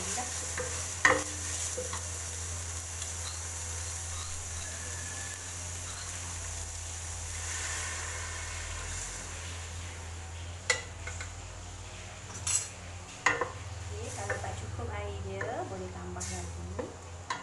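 Tamarind water poured into a drying pan while cooking asam pedas with mackerel, a steady hiss of sizzling with occasional utensil scrapes and clinks as it is stirred, with a voice speaking now and then.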